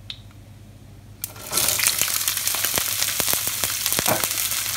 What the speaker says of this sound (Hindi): ऑयल हमारा गर्म हो गया है, अब इसमें हम सारी वेजिटेबल्स डाल लेंगे।